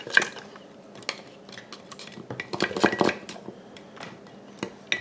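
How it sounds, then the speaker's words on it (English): Yeast and ingredients being mixed together in a jar for a sourdough starter made with mashed potato flakes, heard as a steady run of clinking, scraping utensil strokes against the container, with denser clatter in the middle. "We're going to mix that together until it's mixed up pretty good."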